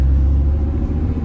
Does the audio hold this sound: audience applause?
no